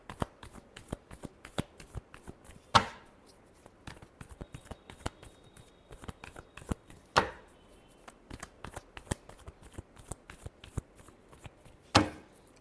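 Tarot cards shuffled by hand in a quiet room, rapid papery riffling ticks in a steady patter with three sharper bursts of cards slapping together, close and soft.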